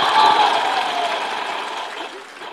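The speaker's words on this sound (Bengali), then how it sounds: "আমাদের ক্ষোভের জন্য একটা জোরে হাততালি" Steady applause from a live audience at a public speech event in Bangladesh, a broad wash of clapping that holds fairly level and fades slightly toward the end, with no talk over it.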